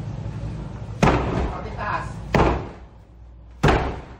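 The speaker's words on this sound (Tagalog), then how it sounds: "Nakadakang pinto ng bahay, kaya gumamit sila ng battering ram." Three heavy, booming impacts of a battering ram against a house door, spaced about a second apart, each with a short rattling decay, with voices in the background.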